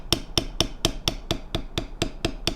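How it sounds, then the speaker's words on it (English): Leather beveling tool struck repeatedly with a mallet on cut lines in a leather piece: eleven sharp, evenly spaced taps in a quick steady rhythm, close and clear with no talk. "when I run this bevel across here"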